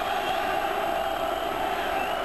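Norwich City supporters cheer in a stadium during a European cup match against Bayern München, a steady, dense roar of crowd noise that stays loud and continuous throughout.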